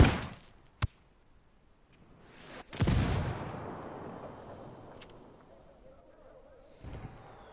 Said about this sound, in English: we got mortars incoming!